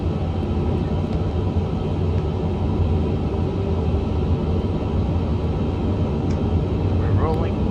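Airbus A350-1000 airliner taxiing in a flight simulator after the parking brake is released, giving a continuous low engine rumble that stays even and steady throughout with no pauses.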